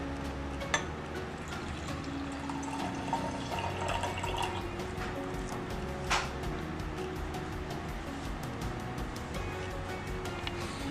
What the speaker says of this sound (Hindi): अभी ये डिटर्जेंट के साथ जब हम पानी मिलाएंगे